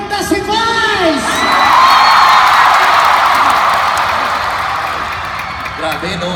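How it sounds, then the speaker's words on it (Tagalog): A big arena crowd claps and cheers, whoops and shrill yells swelling into a loud, sustained roar that slowly eases off, with voices shouting over the noise. "Pumalakpak, may kasamang hiyaw na sasabing,"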